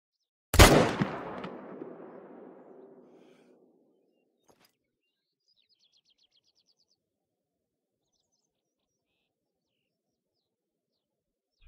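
A single loud hunting rifle shot cracks out in theHunter: Call of the Wild, followed by a long echoing rumble that fades over a few seconds into quiet, with faint bird chirps far off afterward.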